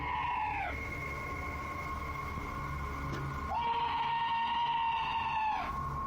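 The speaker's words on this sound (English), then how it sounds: "this scream sounds like chills made audible, happening outside the door of what appears to be a trailer" An eerie scream outside the door of a trailer: two long, wavering tonal cries, the second after a short gap, loud over a steady background hiss, with no talking.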